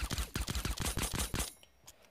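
Rapid bursts of pistol gunfire in the Fortnite video game crackle close and loud in quick succession for about a second and a half, then stop, with no talk.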